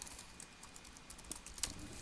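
Code being typed on a computer keyboard for a Bukkit plugin, a quick patter of close, light key clicks with a few louder taps, no talking.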